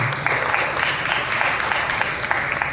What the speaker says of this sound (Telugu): మనం ప్రభువుకు స్తుతి చెల్లిస్తాం. చప్పట్లు కొడతాం.